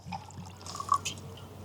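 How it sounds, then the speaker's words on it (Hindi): Water poured into a neti pot at home while preparing a salt-water nasal rinse, heard as a soft trickle and a few small drips and splashes over a faint steady hum. "तो मैं थोड़ा सा और पानी डाल लेती हूँ इसमें"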